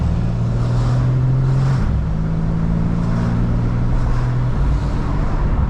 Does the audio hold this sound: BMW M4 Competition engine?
yes